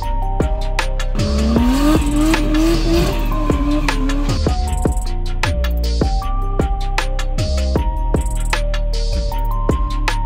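Toyota Hilux with a 2JZ engine and screamer pipe racing a Megane RS, loud engine roar with rising and falling pitch and tire squeal throughout, sustained and close.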